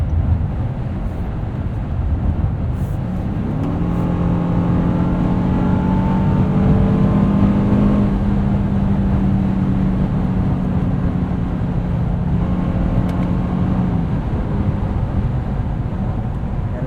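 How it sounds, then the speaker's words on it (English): A 2024 Honda Passport Trailsport with all-wheel drive cruises steadily on a highway, its cabin filled with a constant loud road and engine drone and a faint rising-then-falling tonal whine, with no talking. "You can see here just steady state cruising on the highway."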